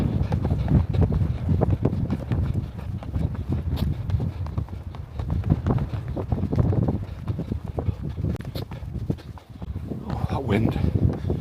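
Cold wind blowing outdoors in Newfoundland, buffeting the microphone with a loud, steady low rumble that lasts throughout.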